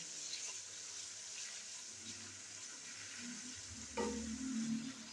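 Chicken pieces stirred with ginger and garlic in a frying pan, giving a steady close sizzle with soft scraping movements and a brief louder stir near the end, no talking.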